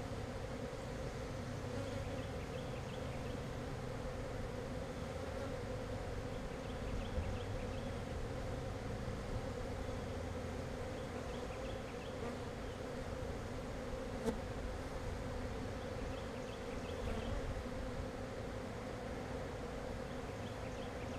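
Honeybees hum in a steady, dense drone throughout an open-hive inspection of the bottom box, the buzzing close and continuous with no voices over it.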